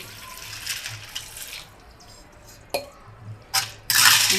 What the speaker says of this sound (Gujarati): મેં એક લોટો પાણી લીધેલું છે એ ઉમેરી દઈ